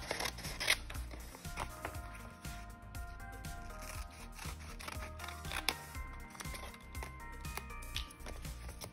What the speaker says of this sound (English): carefully trim so it fits the shape of your lamp